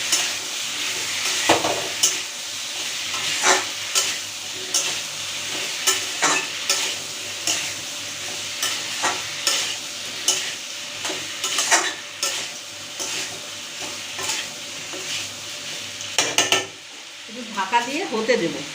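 Pumpkin and potato sizzle steadily in a pan while a utensil scrapes and stirs in repeated, fairly regular strokes, close and clear with no one talking.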